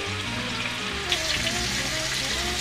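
Vegetables fry in a covered pan, a dense crackling sizzle that fills the whole stretch and brightens slightly partway through, with no one speaking.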